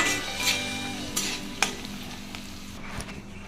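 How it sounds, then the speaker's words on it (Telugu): Hot oil sizzles steadily while curry leaves fry for semiya upma, with occasional scraping clicks of a spoon against the pan. "వేసి మంచిగా ఫ్రై చేసుకోండి"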